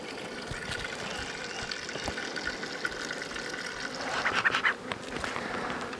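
A swarm colony of honey bees hums at a hive box, a steady close drone with a brief louder flurry of buzzing near the end, no talking.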